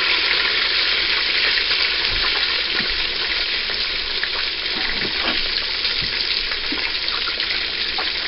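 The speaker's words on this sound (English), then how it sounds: "adding butter to a saucepan and waiting for it to cook down until it gives a nice bubble" Butter bubbling and cooking down in a saucepan makes a loud, continuous close sizzle with scattered pops and crackles, no voices over it.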